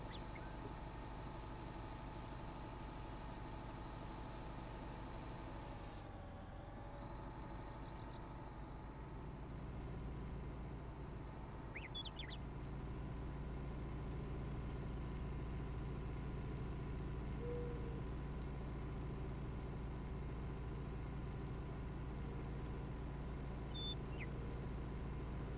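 Tractor engine in Farming Simulator 19, shaking while dumping grass, a steady low idling rumble held throughout with a brief dip early on and faint high chirps over it.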